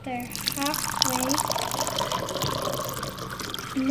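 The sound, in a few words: water poured into toy car pool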